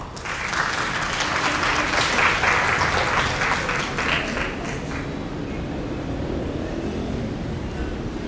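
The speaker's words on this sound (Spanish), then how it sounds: "Fuertes los aplausos, por favor." An audience claps at a national library meeting in Peru. The applause is a broad, even wash of many hands that holds steady for about eight seconds and eases slightly toward the end.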